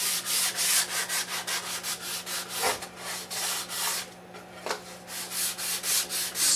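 Rhythmic back-and-forth scuff sanding of the finish on a wooden golf ball setter, close and fairly quiet strokes in a steady repeating pattern with a couple of brief knocks and a short pause near the end.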